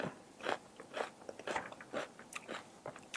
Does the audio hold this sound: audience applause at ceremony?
no